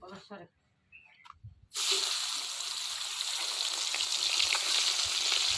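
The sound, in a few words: fish frying in hot oil in a wok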